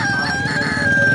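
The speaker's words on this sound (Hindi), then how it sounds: "यहाँ पे मिस्री मुर्गे और असील मुर्गा मुर्गी भी बिक रहे होते हैं" An aseel or Egyptian rooster crows loudly and close at a livestock market in New Karachi, a single drawn-out call over a busy background of clucking fowl.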